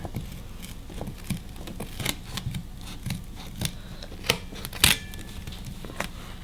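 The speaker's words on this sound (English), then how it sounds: "Got some scissors right here, so I just come in here, carefully cut this fabric here." Scissors snip through folded layers of boat seat fabric up close, about a dozen crisp cuts at an uneven pace with soft rustling between them.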